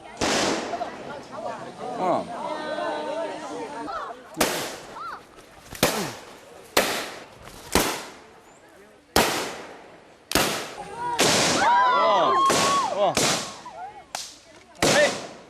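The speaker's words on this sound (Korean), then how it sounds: "숲을 뒤흔드는 총소리." A series of sharp, loud gunshots crack one after another at irregular intervals through a forest near a Basha Miao village in Guizhou, China, each followed by a ringing echo that trails off between blasts.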